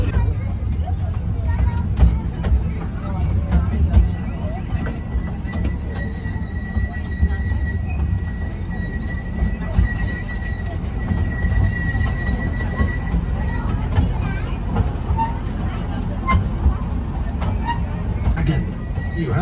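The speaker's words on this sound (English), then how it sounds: "we're in the Duplo train, and we'll have the ride around Legoland" LEGOLAND Deutschland's Duplo train ride rolling around the park, a steady low rumble of the small train with faint wheel squeals and tonal whines, people chatting nearby throughout.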